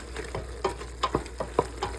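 A pot of jambalaya being stirred, with a few short scraping strokes and soft spoon knocks over a low, steady sizzle, close by.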